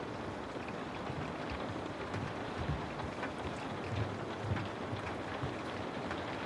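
Steady rain falls in a dense, even hiss with soft low rumbles underneath, continuous and close throughout, with no voices present.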